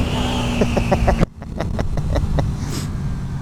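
A motorcycle engine while riding, a steady near drone with rhythmic pulsing pops and a sudden drop in level partway through, wind noise throughout.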